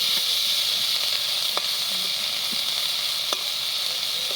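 Eggplant pieces, nearly softened, fry in oil in a pan with a steady close sizzle and hiss, broken by a few faint clicks and stirring taps, with no voices.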